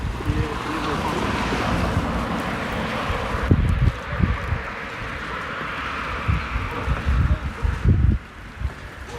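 Strong wind blows across the town of Gramsh in Albania, a constant rushing roar with loud gusts buffeting the microphone, while someone talks over it.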